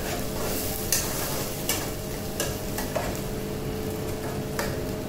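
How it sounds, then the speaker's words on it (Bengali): Bengali crab masala is sautéed in a pan over a high flame: a continuous close sizzle broken every second or so by sharp spoon-against-pan scrapes, with no one speaking. "এবার একটু গ্যাসটাকে জোরে বাড়িয়ে দেবে, এটাকে ভালো করে কষাতে হবে।"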